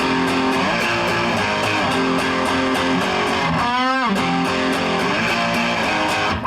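Distorted electric guitar plays a song's riff with repeated, evenly paced chord strikes, loud and sustained, and a brief pitch-bending slide partway through.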